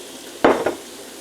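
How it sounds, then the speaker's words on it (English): Pork chops slide into butter in a non-stick frying pan with a sudden loud hiss and sizzle, a second smaller burst following, then settling back to a quiet background. "So we'll slide those pork chops on."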